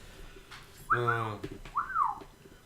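A person whistles a short tune: a sustained, wavering whistled phrase followed by a brief rising-falling note, fairly close and clear over a quiet background.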